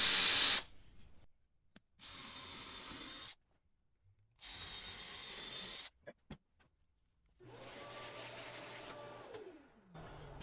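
A power drill fitted with a sharp brad point bit bores holes into wood at marked spots for a projector mount, heard as three separate whirring bursts of a few seconds each, with quiet pauses between, close up.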